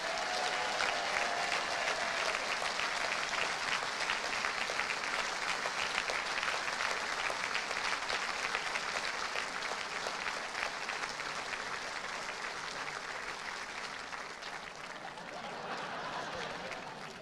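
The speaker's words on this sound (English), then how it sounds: "Continue that round of applause as we welcome down our runner-up, ladies and gentlemen, Janice Gower." Indoor audience applauding at the Just 2020 World Indoor Bowls Championships, a sustained dense round of clapping from a large crowd that eases slightly toward the end, with some faint voices beneath.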